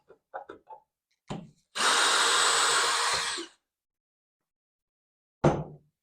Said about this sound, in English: What I'm going to do is take those two screws that are in the uprights and remove those.